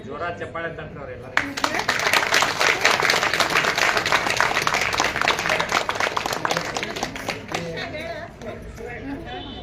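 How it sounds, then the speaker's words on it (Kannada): An audience at a staged performance of the Kannada comic play Kanya Bekri Kanya bursts into loud, sustained applause that swells, holds for several seconds and then thins out, with some crowd chatter mixed in. "ಜೋರ ಚಪ್ಪಾಳೆ ತಟ್ಟವ್ರೆಲ್ಲ."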